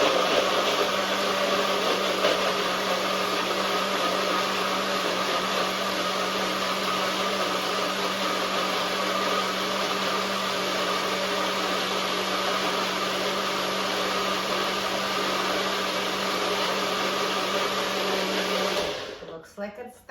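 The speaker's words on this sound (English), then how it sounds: "So here, let's close the blender," A blender runs steadily at high speed blending a mixed berry smoothie, a loud, continuous whirring roar for nearly twenty seconds before it abruptly winds down and stops.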